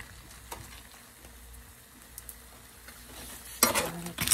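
Eggs with melted cheese and mixed vegetables frying gently over low heat for migas, a soft continuous sizzle with a few utensil taps, then louder stirring and pan scraping near the end.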